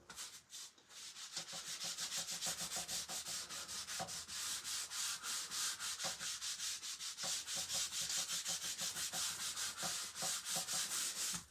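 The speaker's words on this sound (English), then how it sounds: "We're going to give this a good coat of wax before we put down our transfer over top of all of that yellow." A coat of wax is rubbed onto a yellow-painted wooden door in fast, continuous back-and-forth strokes, a steady close scrubbing rhythm that runs without pause for about eleven seconds.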